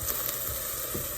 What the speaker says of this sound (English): I'm gonna saute this until the onions and the peppers are a little